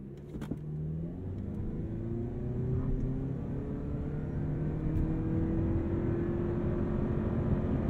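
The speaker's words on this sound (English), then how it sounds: "The only thing left to find out now is whether the Prius Prime is quick to 60." A 2023 Toyota Prius Prime plug-in hybrid accelerates hard from a standstill to 60 mph, heard from inside as a steady, rising engine and motor whine that climbs in pitch over several seconds, with no talking.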